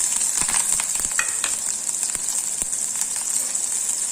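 Green chillies and onion frying in hot oil with mustard seeds in a South Indian home kitchen, a steady close sizzle with scattered crackles and spoon-stirring clicks throughout, no talk.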